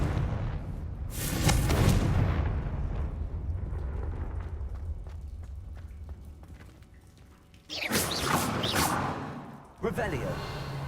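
Blasting-curse explosions in Hogwarts Legacy: a heavy booming burst near the start that decays into rumble, then two more sharp, loud blasts near the end, with spoken voices mixed in.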